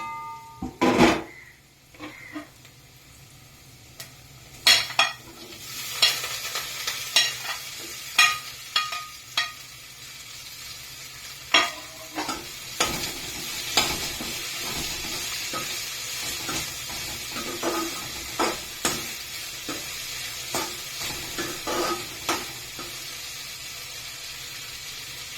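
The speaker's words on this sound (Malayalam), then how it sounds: "വെണ്ടയ്ക്ക ഒന്ന് വഴണ്ട് വരട്ടെ" Ladies finger (okra) sautéing in a pan for an egg masala dry roast, with a steady sizzle and repeated scraping clatter of a spoon stirring against the pan, close and continuous.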